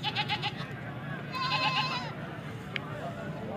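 Goats bleat at a bustling livestock market, a few wavering cries rising over a steady hum of crowd noise while someone talks nearby.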